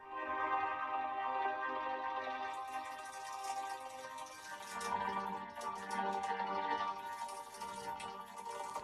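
A sustained synthetic chord progression with a robotic, vocoded timbre, steady and fairly loud, brightening midway as the texture opens up.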